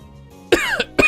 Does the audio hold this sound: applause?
no